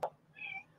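A short, soft cat meow follows a brief sharp tap, all within under a second, fairly close and quiet.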